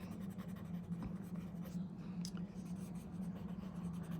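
A smudgy graphite pencil scratches lines across slightly damp paper in a continuous close-up rasp. The pressure shifts a little as each stroke goes on, with no one speaking.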